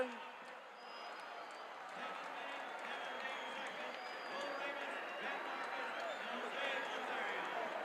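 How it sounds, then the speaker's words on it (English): Wrestling-match audience in uproar, a dense roar of screaming, yelling and hollering spread evenly over the whole stretch, heard as a distant, steady crowd wash with whistles. "The crowd is in an uproar. People are jumping and screaming and yelling and hollering."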